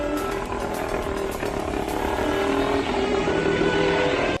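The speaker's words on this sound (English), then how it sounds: "a pretty cool piece of machinery is this 1931 mono wheel that had a 3-speed gearbox" A 1931 monowheel with a 174 cc engine and three-speed gearbox runs with a loud, steady mechanical drone and buzzing rattle throughout.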